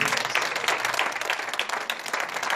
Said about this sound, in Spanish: recibe este fuerte aplauso de este pueblo